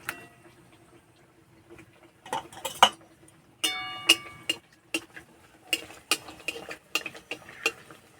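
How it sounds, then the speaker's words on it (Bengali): A series of sharp clicks and metallic taps from a utensil against a pan as crisp khaja pastry is flipped, sparse at first, then quicker and louder. "এটা একটু উল্টে দেবো।"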